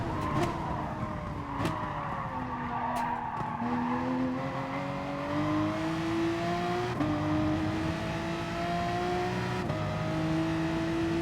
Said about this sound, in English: I should be able to rev it out now